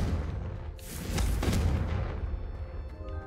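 Confringo explosive spell cast in the Hogwarts Legacy video game: a loud, broad blast that swells into a rumbling boom and fades into a sustained low roar with ringing tail.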